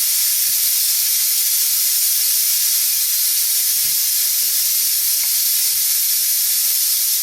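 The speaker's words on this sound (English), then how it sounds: "we're going to allow the steam to escape" Steam hisses loudly and continuously from a pressure cooker's release valve after cooking risotto, a strong, steady high-pitched rush close by with faint clicks underneath.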